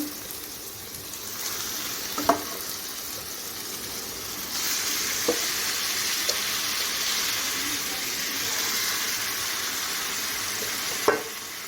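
Goat or chicken meat fries in hot oil over a high gas flame, a steady moderate sizzle with occasional sharp utensil knocks and a swell of hiss partway through, no voices.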